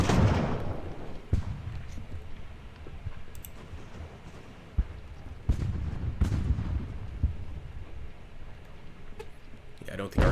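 Cannon fire in an Age of Sail naval battle game lands as scattered dull booms and cracks, some distant and soft, spread irregularly over a low rumbling background.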